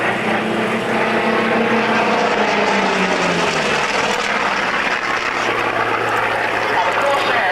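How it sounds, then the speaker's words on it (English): A Corsair propeller plane drones steadily overhead at an air pageant, its engine pitch shifting slowly as it banks into a cloverleaf maneuver, with a faint voice underneath. "Changing direction into a cloverleaf maneuver, and the airplane being flown by Air Commodore John Allison."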